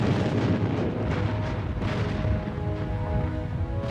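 Revolutionary War cannon fire thunders in a continuous, heavy rumble of overlapping booms, loud and close, with no voices.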